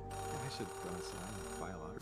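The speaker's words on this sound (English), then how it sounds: "or that is a phone ringing" A phone rings steadily in the video game Oxenfree 2, a continuous tonal ring running for the whole two seconds while voices talk over it.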